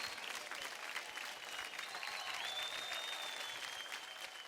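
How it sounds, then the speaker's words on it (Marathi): A TV dance show audience gives strong applause after a dance performance, a continuous burst of many hands clapping at a steady level with a faint tone running through it. "त्याच्यासाठी एकदा जोरदार टाळ्या होऊन जाऊ."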